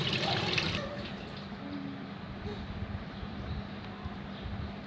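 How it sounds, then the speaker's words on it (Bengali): Cut potato sticks being rinsed in water for French fries, a close splashy wash at first that settles into a softer steady trickle and slosh. "এখন ভালো করে ধুয়ে পানি ঝরিয়ে নেব"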